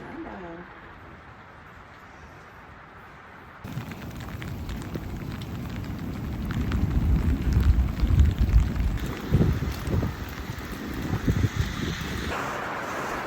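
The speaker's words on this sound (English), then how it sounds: "it's raining." Rain begins falling abruptly at an Outer Banks campground, a close, steady hiss and patter that sets in after a quiet opening and grows heavier and denser toward the end.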